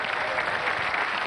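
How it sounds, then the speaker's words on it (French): Sustained applause for young pétanque players at a 2007 Marseillaise final, a dense steady clatter of many hands clapping without pause. "Un coup d'applaudissement pour ces jeunes."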